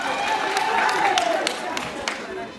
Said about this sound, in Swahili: Jamani, makofi kwa Wanangonjera